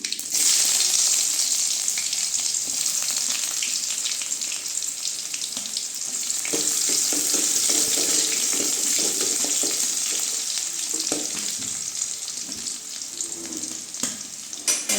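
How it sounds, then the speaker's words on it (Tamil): Onions and curry leaves sautéing in oil for a drumstick and brinjal kara kuzhambu, a loud, dense, continuous hissing sizzle close up with faint stirring movements and no voices. "வெங்காயம் வதங்கட்டும்"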